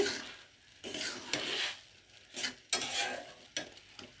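Semolina halwa is stirred in a pan, with a spoon scraping and rubbing through it in uneven strokes over a soft sizzle, and occasional metallic clicks against the pan's sides.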